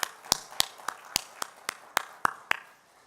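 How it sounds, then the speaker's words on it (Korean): Sparse claps from a small church congregation at a Friday evening service, about nine separate sharp hits at an uneven pace, fairly close and moderately loud, with no voices. "우리 찬양과 영광을 받으신 하나님께 다시 한번 영광의 박수 올려드릴까요?"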